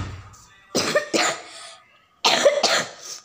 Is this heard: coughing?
yes